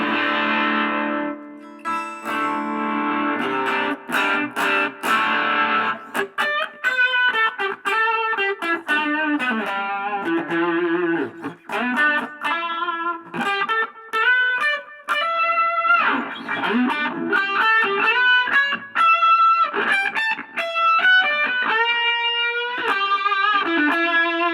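Electric guitar played through a Caline Lorcan amp with the gain up, strummed chords and single-note runs with crunchy distortion, continuous and close with no talk.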